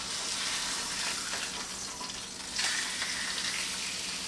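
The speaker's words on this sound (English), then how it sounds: "After about 5 or 10 minutes, we turn over the blackfish so that we can cook it on the other side." A turned blackfish fillet fries in a pan with a continuous, fairly close sizzle and crackle, a soft spattering hiss that swells briefly partway through, with no voices.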